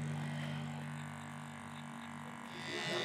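Andis electric hair clippers tidying the edge of a haircut in a barbershop, giving a steady close mechanical buzz with a low hum that softens briefly and returns, faint overall.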